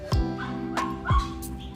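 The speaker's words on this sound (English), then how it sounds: "you can hear my little rooster and my three little dogs there" A couple of small dogs give a few short, high yipping barks, close by, over steady background noise.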